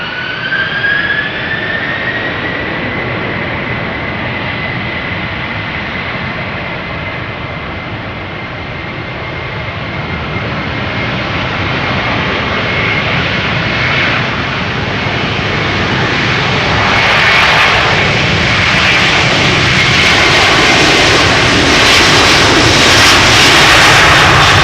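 A Delta Airlines jet airliner at Amsterdam Schiphol roars loudly and close, a sustained jet engine rumble with a high whine that slowly builds in strength as it departs.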